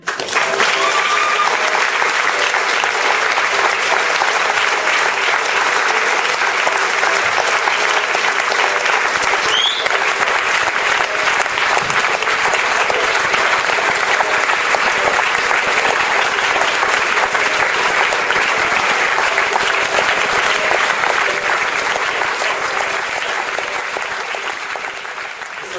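A theatre audience applauds at a stage play, with dense, sustained clapping from a full house that carries on for over twenty seconds and then slowly begins to fade.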